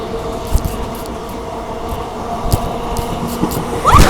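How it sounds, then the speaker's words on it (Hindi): A saffron Vande Bharat express train comes closer on the line, a loud continuous rumble and rattle of wheels with repeated clanks, growing toward the end; no speech. "भाई साहब सामने से आ रही है सैफरॉन वंदे भारत लग रही है।"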